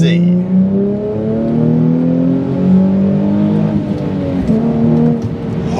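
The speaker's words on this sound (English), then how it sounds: "this one has got a really nice exhaust on it, and it actually sounds quite good" An early-2000s Nissan 350Z fitted with a nice aftermarket exhaust drones close by while driving, its engine note rising and falling through smooth revs with a steady, raspy tone.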